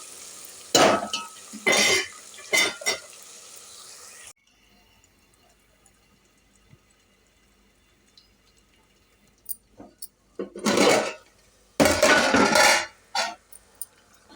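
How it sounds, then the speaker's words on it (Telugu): Dry fish and onion fry in a pan, heard as bursts of loud scraping and stirring against the pan at the start and again near the end, separated by a quiet stretch with only faint ticks; no speech. "ఎండి చేపలు, ఉల్లిపాయ మగ్గాలి ఒక 2 నిమిషాలు"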